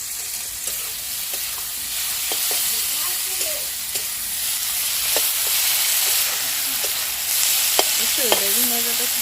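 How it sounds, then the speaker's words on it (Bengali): Eggplant fries in a pan while being stirred, a steady close sizzle broken by scattered scraping clicks, with a brief tonal sound near the end. "বেগুন ভাজাটা খুব সুন্দর হবে,"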